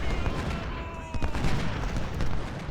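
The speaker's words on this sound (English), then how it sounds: "here comes the artillery" Artillery fire in the Civil War strategy game Ultimate General: Civil War, a continuous rumbling barrage of booms and shots heard at moderate volume from a distance.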